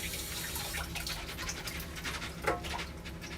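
Chickpeas rinsed under running water in a kitchen sink, giving a continuous splashing rush at moderate level with small clatters and swishes as they are shaken about, no talking.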